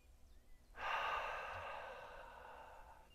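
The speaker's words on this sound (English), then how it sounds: "Exhale through the mouth as we come back to the center." A person slowly exhales through the mouth during a qigong breathing exercise. The breath is a single soft, airy sigh that begins after a quiet moment and fades gradually, close and alone.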